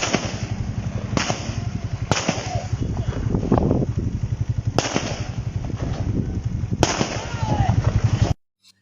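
Gunfire during riots pops in sharp cracks across the stretch, a handful of loud reports spaced a second or two apart over a constant rumbling din and shouting voices, ending abruptly.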